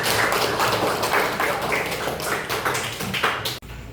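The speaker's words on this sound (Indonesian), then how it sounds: "tepuk tangan untuk teman-teman" Classmates in a classroom clap for one another, a dense burst of many small hands tapping quickly and close, filling most of the moment before it cuts off abruptly near the end.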